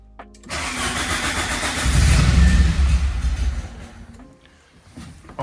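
A Peugeot 205 GTI cranks and fires up inside a garage, its engine catching after a brief starter whir, then rumbling loudly up to a steady idle before settling slightly. The car is close, with no talk over it.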